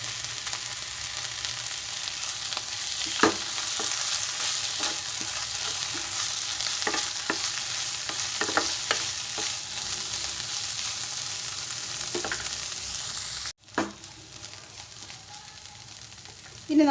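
Cooked toor dal is stirred into a hot frying pan with a continuous sizzle and repeated spoon scrapes and taps. A brief break comes near the end, then the frying resumes more quietly.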